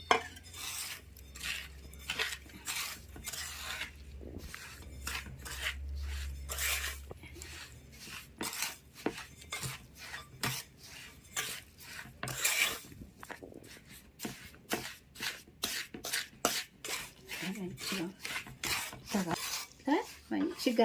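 Rava laddu mixture of semolina and milk being mixed by hand in a bowl, a run of rhythmic scraping and rubbing strokes against the vessel, close and fairly crisp, quickening toward the end.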